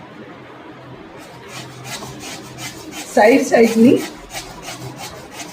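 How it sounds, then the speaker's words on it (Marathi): Bottle gourd (dudhi) flesh being grated on a kitchen grater, the seedy core left out: a short burst of close, scratchy rasping strokes lasting under a second, over quiet background with a brief spoken word earlier. "आपण बाजूचा असा भाग किसून घेऊ"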